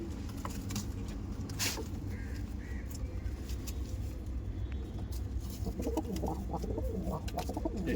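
Giribaj pigeons coo softly at a distance over a steady low rumble of background noise, with faint scattered patter and no clear talk.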